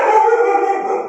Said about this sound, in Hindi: बाहर हमारे बहुत सारे कुत्ते हैं जिनकी आवाज़ आ रही होगी